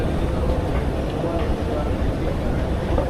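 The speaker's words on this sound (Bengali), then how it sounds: "এটা হচ্ছে মেট্রো স্টেশন, মেট্রো স্টেশনের ভিতরের অংশ" Broad, steady rumble inside an underground metro station in Qatar, a continuous low hum of trains and ventilation filling the enclosed space, with faint voices beneath the drone.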